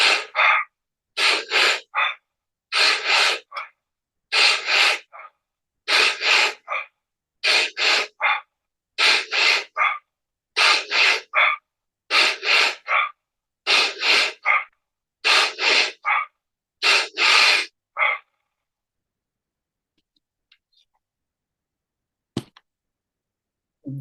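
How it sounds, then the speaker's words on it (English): Fast, forceful breaths drawn and pushed through the mouth in a breathwork demonstration, about a dozen loud rhythmic bursts at a steady pace, close up, then quiet with a faint click near the end. "demonstrate on how to properly do the breathing"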